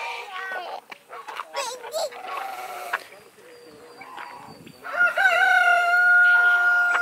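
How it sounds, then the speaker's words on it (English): A big rooster in a farmyard with ducks and a goose crows, a drawn-out harmonic cry near the end, after a stretch of scattered bird calls and bleating-like animal sounds. "And a big rooster."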